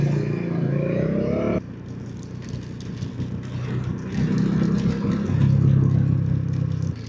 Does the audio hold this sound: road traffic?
yes